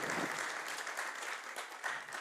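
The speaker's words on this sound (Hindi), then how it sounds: "क्वायर के लिए भरपूर तालियां" Congregation applause for the choir during a Sunday church service, a short, fairly faint burst of clapping with a few sharper claps near the end.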